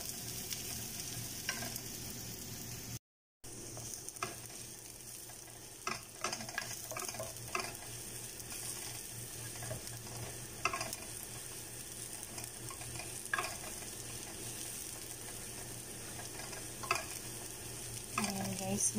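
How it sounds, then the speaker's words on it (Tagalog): Food sautés in a pan on its way to turning brown, a continuous soft sizzle with scattered clicks and scrapes of stirring, steady and close with a brief dropout near the start. "Gigisa lang natin siya hanggang magiging brown."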